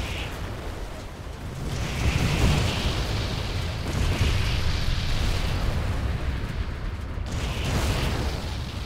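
Continuous roaring explosions from Iron Leg attacks in the video game Arcane Odyssey, a dense rumbling barrage with recurring surges and bursts, loud and with no talking.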